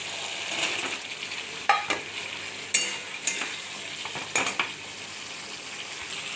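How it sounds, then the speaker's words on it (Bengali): Potatoes and pointed gourd fry in a little ghee, giving a steady soft sizzle with scattered scrapes and clinks of a utensil against the pan. "এবার আলু পটলটা দিয়ে দিচ্ছি।"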